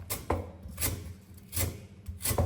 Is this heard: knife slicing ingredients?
yes